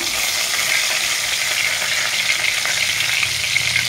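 Bay leaves dropped into hot mustard oil give a steady, close sizzling hiss with light crackle throughout, no talk.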